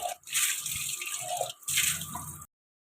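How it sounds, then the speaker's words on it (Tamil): Steady running water splashes and gurgles as a clay pot is scrubbed clean with coconut fiber and no chemicals, with a brief break midway before it cuts off to silence. "தேங்காய் நார் வச்சு கெமிக்கல் இல்லாமல் கழுவி எடுத்துக்கிறேன்"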